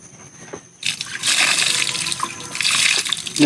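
Water poured onto a pepper vine plant growing up a tree, starting after a quiet moment as a steady splashing gush close by that continues to the end.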